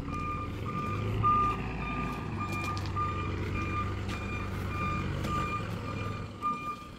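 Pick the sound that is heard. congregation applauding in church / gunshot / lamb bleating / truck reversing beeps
truck reversing beeps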